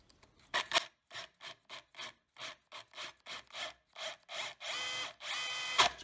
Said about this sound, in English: we've scored the mortar there with the drills